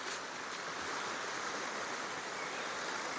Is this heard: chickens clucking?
no